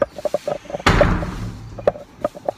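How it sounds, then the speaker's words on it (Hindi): A door swings shut with one solid thud and a short rattle in a guesthouse room near Bangalore, set among soft clicks and small handling knocks. "भाई दरवाज़ा देना पड़ेगा नहीं तो मच्छर घुस जाएगा"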